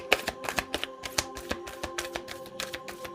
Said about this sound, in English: I can't shuffle this huge deck with just my fingers